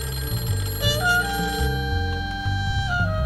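An old-style telephone bell rings repeatedly in the noir adventure game Face Noir, loud and close with a steady repeating pattern over a low musical drone, no voices.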